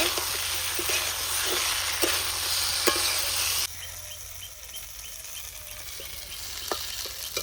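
Potato and squash stirred into frying masala in a pan, hissing and sizzling steadily with soft scraping strokes, loud at first and then settling to a quieter fry.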